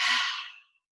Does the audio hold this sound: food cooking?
no